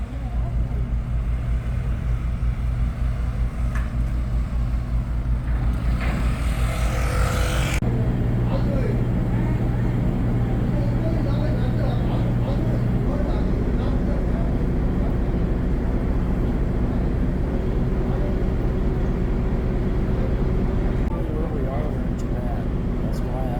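The powerful diesel engine of a ferry crossing Uredo Bay in Shikoku, Japan, drones loud and steady, a deep continuous rumble with constant hum that persists the whole time, with a brief shift in tone partway through.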